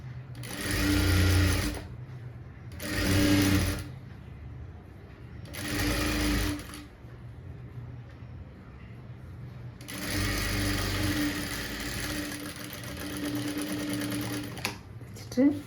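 A sewing machine stitches the front of a blouse in four runs, three short whirring bursts and then a longer steady stretch, with quiet pauses between them and a click at the end.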